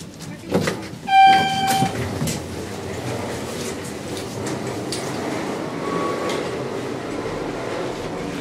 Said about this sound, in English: It's an okay elevator.